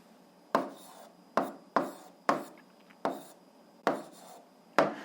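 An answer to an algebra exercise being written out by hand: seven distinct scratchy strokes, each a sharp onset fading quickly, spaced irregularly against near silence, close and fairly quiet.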